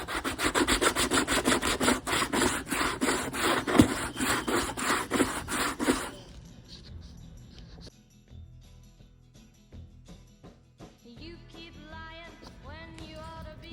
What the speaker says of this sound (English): I put it on my block. And I'm just going to generally take the shine off of the boots.